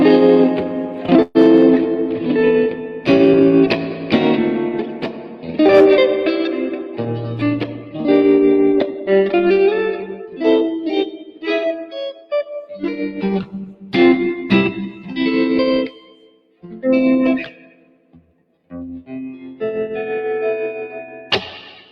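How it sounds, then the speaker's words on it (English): An electric guitar plays a slow, sparse phrase through VOX tremolo and reverb effects, with a pulsing tremolo and a light wash of reverb, notes ringing out between gaps. "that tremolo and just a touch of reverb"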